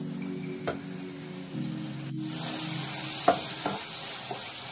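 Masala roasting in a pan with a soft sizzle, a low background hum and a few sharp scrapes and taps of a spoon stirring, no talking.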